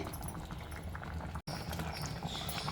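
A pot of mango saaru bubbling on the stove, a soft, dense, continuous simmering patter heard close up with no talking.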